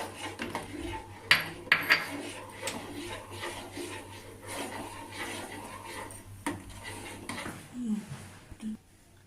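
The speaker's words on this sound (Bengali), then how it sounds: "এবার আমি লেবুর রসটা দিয়ে দিলাম দিয়ে আমি নাড়তে থাকি" Boiled milk stirred with lemon juice in a pot to make chhena at home, soft metallic scrapes and a few sharp clinks of a spoon against the vessel, close and fairly quiet over a low background hum.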